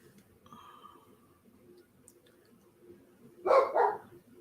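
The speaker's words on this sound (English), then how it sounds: "I have no idea what he's barking at." Dog barking indoors, one or two sharp barks near the end after a quiet stretch of faint background noise, loud and close, with no talk.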